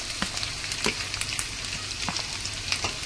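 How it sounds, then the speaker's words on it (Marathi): Garlic, ginger, chilli and coriander stems sauté in hot oil for a Schezwan chutney, a steady close sizzle with small crackling pops scattered throughout and no voices. "सगळं व्यवस्थित आपण परतून घेऊया"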